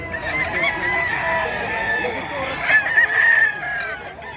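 Bulik gamefowl rooster at the Bocaue chicken market, loud close crowing and clucking with a drawn-out call near the end, amid busy market background noise.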